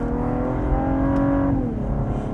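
Loud twin-turbo V6 of a 464-horsepower Cadillac ATS-V sedan accelerating in manual mode up through the revs, a rising harmonic roar that drops in pitch at a gear change and keeps pulling, no talking.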